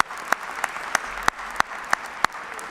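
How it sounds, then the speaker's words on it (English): Sparse, evenly spaced claps ring out about three times a second, a handful of people applauding at a university commencement ceremony over a quiet room hum. "We can give them a big round of applause for sure."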